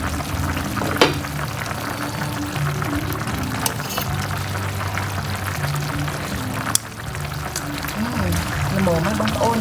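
A Cambodian wild sour Muscovy duck soup simmers in a pot, giving a steady low bubbling and hiss throughout, with a few brief clinks and scrapes near the start and middle.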